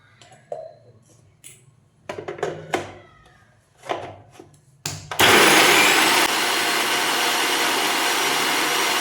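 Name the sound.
mixer grinder blending tomato, coriander, coconut, garlic, cumin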